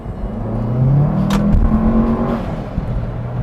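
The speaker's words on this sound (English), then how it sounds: "the sound that comes from the intake is amazing" A car engine fitted with a LEYO Motorsport cold air intake revs up with a deep, throaty drone and a rising whoosh from the air intake, loud and close, with no voices.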